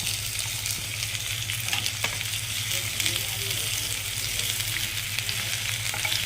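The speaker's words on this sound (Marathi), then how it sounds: "आता कांदा टाकून घेऊया." Chopped onion sizzles loudly and steadily in hot oil in a pan for soybean chilli, with stirring scrapes under a constant fry.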